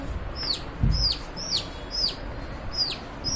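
Chicken chicks hiding under a bed indoors give about six high, sharp, descending peeps in a steady rhythm, fairly close, with a soft thump early on and no talking.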